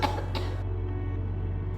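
A woman coughs in a few short bursts at the start, then falls quiet over a steady low hum of room noise.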